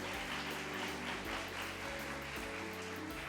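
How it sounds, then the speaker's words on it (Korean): Applause from the audience at a Korean high school mock trial competition as a law school professor on the judging panel is introduced, a dense, even wash of clapping lasting the whole stretch with no voices. "환영의 박수로 맞아주시기 바랍니다"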